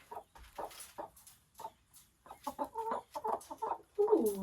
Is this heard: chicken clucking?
yes